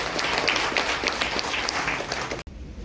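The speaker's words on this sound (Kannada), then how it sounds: "ಹಿಂದಿದ್ದವರು ಸ್ವಲ್ಪ ಜೋರಾಗಿ ಚಪ್ಪಾಳೆ ಹೊಡಿರಿ ಸ್ವಾಮಿ" An audience at a Gandhi Bazaar friends' felicitation gathering claps in a busy, crackling mass for over two seconds, then the sound cuts off abruptly into near quiet.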